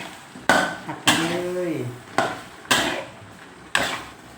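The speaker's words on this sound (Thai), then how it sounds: "เราก็จะมาผัดกันเลยนะคะผัดเลยค่ะ" Pumpkin being stir-fried in a pan with fish sauce: repeated loud spatula clanks and scrapes against the pan every second or so, one drawn-out squealing scrape, and a sizzle underneath.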